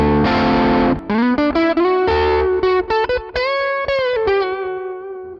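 Distorted electric guitar through an Amplitube 5 Mesa Boogie amp simulation with a treble boost, a sustained chord followed by a string of choppy, bright picked notes and short stabs, loud and close with no talking.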